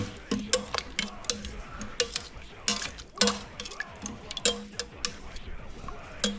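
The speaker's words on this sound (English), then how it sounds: "Let's give it a good stir" A spoon stirs venison sandwich dipping juice in a pot, tapping and clinking steadily against the sides in quick irregular ticks, close up, with speech heard faintly at moments.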